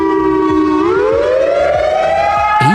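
A civil defense siren wails loud and close, holding a steady tone before sliding upward in a long rising sweep, then cutting off and restarting low near the end, with faint rhythmic clicks beneath.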